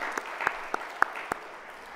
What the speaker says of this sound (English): our Hosanna choir a round of applause.